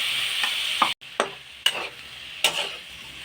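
A cauliflower curry cooks in a pan as spices are stirred in, a low steady sizzle broken by four or five sharp scraping and clacking strokes of a spoon against the pan, close and alone.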